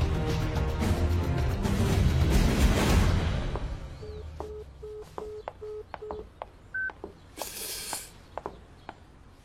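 A mobile phone is dialed: a burst of hissing noise gives way to a series of short, evenly spaced keypad tones, followed by a brief rushing sound and a few more beeps.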